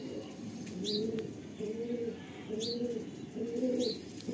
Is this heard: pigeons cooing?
yes